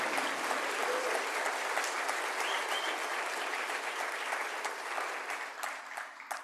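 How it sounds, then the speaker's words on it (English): Sustained audience applause at the welcome remarks of an academic symposium hosted at UC Davis, dense steady clapping from a sizeable crowd that holds for several seconds and thins slightly near the end, with no talking. "Can we take a minute just to give them a round of applause for all of their hard work?"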